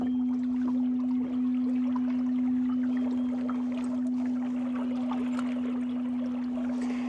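A steady electric hum from a budget rudder-style electric outboard motor running at 39% power on a wooden boat in a creek, continuous and close under a light breeze with faint water trickle.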